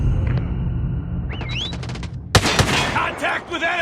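Machine gun fire in a Call of Duty–style shooter on the Shipment map, a sudden dense burst of rapid shots after a quieter stretch of ambient game noise and effects, loud and close.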